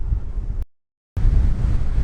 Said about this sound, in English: it's kind of windy out here. It's a little windy.